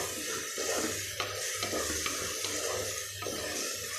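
Tomato being sautéed with ginger garlic paste in a pan for kuska, a plain biryani, giving a steady moist sizzle with faint stirring scrapes throughout, close and alone with no talking.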